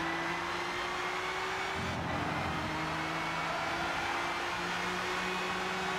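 A race car in Gran Turismo 6 brakes into a long sweeping right-hander at Silverstone during an E3 2013 GT Academy tournament, a continuous droning engine tone that shifts pitch partway through, steady and moderately loud.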